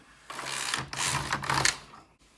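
A Singer double-bed knitting machine carriage is pushed across the needle bed while knitting alpaca wool, giving a close, steady mechanical whir and clatter of about two seconds with a short pause in the middle, and no voices.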